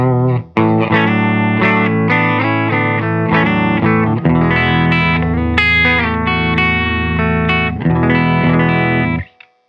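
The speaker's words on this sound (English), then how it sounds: "I'm using the Scythe Guitars OH-19 and I'm plugged into a subtone amp." Scythe Guitars OH-19 with single-coil pickups played clean through a Subtone amp, bright strummed chords and picked notes ringing with a touch of chorus and reverb, loud and close, stopping just before the end.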